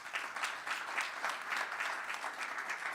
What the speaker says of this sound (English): please applaud these two ladies